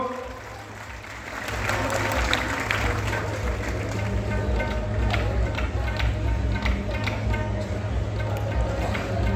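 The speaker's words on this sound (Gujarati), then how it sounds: "આપણે જોરદાર તાળીઓથી વધારી લઈએ મિત્રો" Audience applauds at a Shrimad Bhagavat Saptah religious gathering in Viramgam, steady dense clapping rising after a soft start and continuing throughout, with a voice audible beneath.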